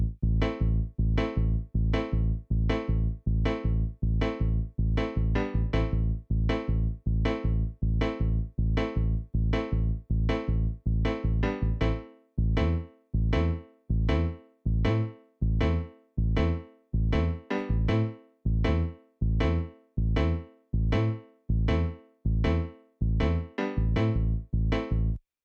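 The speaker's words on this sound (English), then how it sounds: "It's some keys like a piano," Sharp, cutting piano-like synth keys from a bouyon beat play a fast, steady stabbing pattern, loud and alone, with a denser chord rhythm in the first half and choppier, gapped hits in the second.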